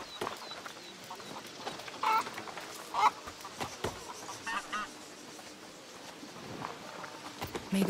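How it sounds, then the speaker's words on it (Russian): Geese are chased in the video game A Plague Tale: Requiem, with scattered clucks and honks among quick footsteps and soft scuffs. Several calls stand out a little louder amid quieter game ambience. "давайте гусей будем гонять"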